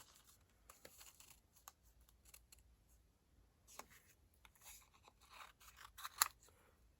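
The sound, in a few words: scissors trimming paper for a Christmas card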